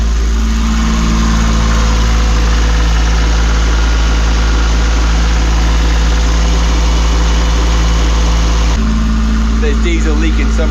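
Sailboat diesel engine motoring at sea, a steady loud droning hum with constant low throb throughout, unchanging rhythm and close to the microphone.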